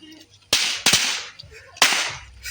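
Firecrackers burst loudly during Lebaran festivities in Malang: three sharp, close cracks spaced over a couple of seconds, the first two in quick succession and a third after a pause, with faint background voices between them.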